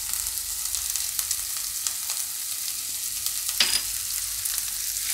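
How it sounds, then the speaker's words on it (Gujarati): Finely chopped ingredients frying in oil for rava idli, a bright continuous sizzle with a few stirring scrapes and one louder clatter near the end, close and uninterrupted by speech. "તેલમાં આ જ રીતે આપણે 1 થી 2 મિનિટ માટે ફેરવશું"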